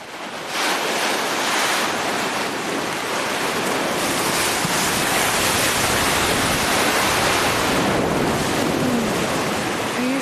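Ocean surf at a beach in early morning, a loud continuous wash of breaking waves and spray with swelling and easing surges, broad and close with no voices.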